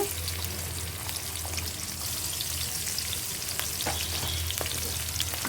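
Chopped onion fries in hot oil for a bean curry, giving a steady close sizzle with scattered crackles and pops and occasional stirring.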